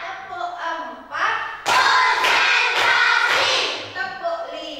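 A classroom of children claps in unison during a counting clap game, giving several sharp group claps close together while a teacher's voice leads between them.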